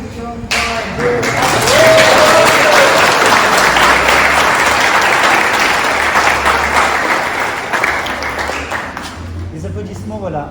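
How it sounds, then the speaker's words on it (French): Loud, sustained applause from a crowd at a baptism, filling the space for several seconds before tapering off, with voices mixed into the clapping. "Les applaudissements"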